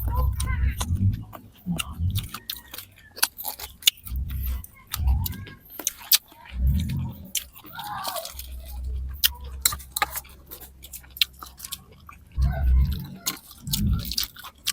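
Crunchy chewing of fresh vegetables, with bursts of loud, close bites and mastication recurring every second or two, a faint voice or two underneath.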